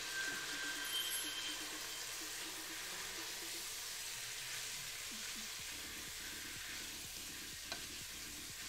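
Food for Cajun chicken pasta fries in a pan with a steady, moderately quiet sizzle that carries on unbroken, with a few faint clinks over the hiss.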